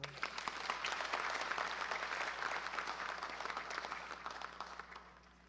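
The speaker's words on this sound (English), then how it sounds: "I think we should give them a round of applause" Audience applause for students at a June 2025 exam results release ceremony, a steady, moderately loud wash of clapping lasting several seconds, with a faint steady hum beneath it.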